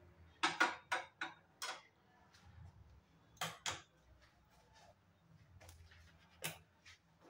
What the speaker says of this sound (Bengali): এখন গ্যাসটা জ্বালিয়ে দিলাম।